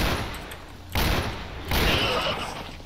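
Gunfire in the shooter game STALKER Anomaly: three loud, close shots spaced under a second apart, each with a long booming tail.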